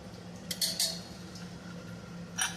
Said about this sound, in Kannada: ನಾನಿವಾಗ ಇದಕ್ಕೆ ಲಿಡ್ಡನ್ನು ಕ್ಲೋಸ್ ಮಾಡ್ತೀನಿ